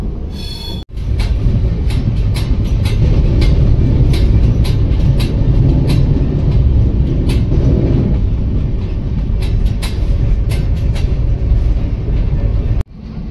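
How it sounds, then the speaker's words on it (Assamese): A moving train heard from inside a new AC 2-tier coach gives a loud, steady rumble with a rapid clickety-clack of wheels over rail joints. The noise keeps up throughout, with two brief sharp drops in level, and nobody speaks. "এ চি 2 টায়াৰত সোমাই আছোঁ বহুত ধুনীয়া বগীটো নতুন"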